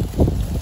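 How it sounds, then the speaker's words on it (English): Wind gusting outdoors on a cold, windy day, a low rumbling buffet against the microphone that swells and fades briefly, loud and close with no talk. "it's really windy today"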